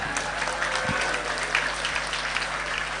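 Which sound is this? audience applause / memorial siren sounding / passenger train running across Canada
audience applause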